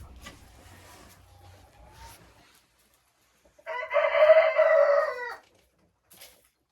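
A rooster crows once, loud and close, after a few faint clucks and rustles; quiet moments surround the call.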